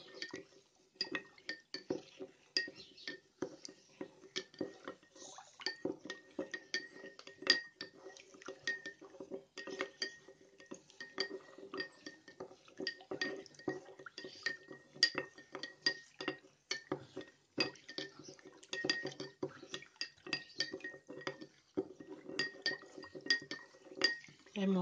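A utensil stirs salt into lukewarm water in a glass container, producing a long run of rapid, light clinks and taps that ring out close and crisp, with occasional quiet liquid swishes.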